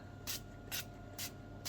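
Four short, sharp hissing bursts of an aerosol cooking oil spray onto potato wedges on a tray, evenly spaced, each lasting a fraction of a second over a quiet background.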